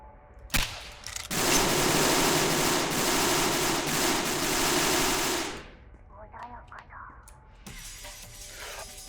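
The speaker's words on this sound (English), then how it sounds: "Let's continue firing." Sustained stream of gunfire in the 90s dystopian immersive sim Peripeteia, a dense crackling burst lasting several seconds after an opening shot, then fading into scattered game sounds.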